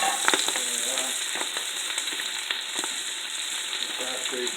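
Spices roast and sizzle in a hot pan for an Indian beef curry, a continuous crackling fry with light scraping stirs, close and moderately loud with no talk.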